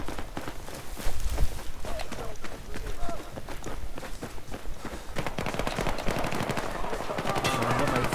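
An M249 machine gun fitted with a suppressor fires in Battlefield 4, rapid muffled bursts mixed with running footsteps and game action, with a player talking over the gameplay.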